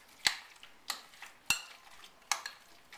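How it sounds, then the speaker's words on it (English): A utensil stirs chicken salad with a pinch of cinnamon in a bowl, clinking against the side in a steady rhythm of crisp knocks about every half second, close and alone. "Mix it in there nice and good."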